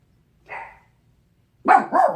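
Miniature pinscher barking, one short, faint yap followed by a closer, louder burst of two or three sharp barks in quick succession.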